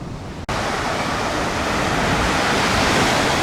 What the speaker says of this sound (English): There's some little waves coming in, making a little noise, but really pretty nice.